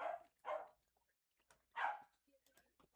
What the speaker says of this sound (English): Yeah, it's our dogs.